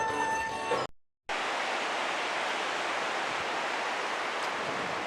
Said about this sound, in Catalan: El riu segueix per entre aquests penya-segats